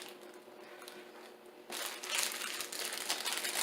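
A plastic wrapper is peeled off a Twinkie snack cake, quiet crinkling at first that turns into louder, close rustling and crackling for the last two seconds.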